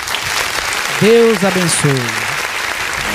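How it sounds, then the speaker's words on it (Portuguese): A congregation claps for the Lord at the close of a church service, a continuous wash of applause running beneath a voice speaking briefly over it. "Vamos aplaudir ao Senhor."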